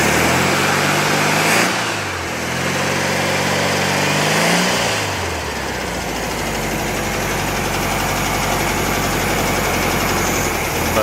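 Trash-picked air-cooled VW Bug engine running on an engine stand with the choke not fully off, idling slightly rough and steady nearby with a couple of brief dips in revs early on.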